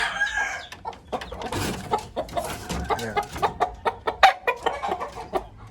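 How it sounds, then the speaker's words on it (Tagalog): Hens cluck in quick, repeated bursts close by while a rooster crows, the clucking growing into a steady rhythmic series. "Malaking manok."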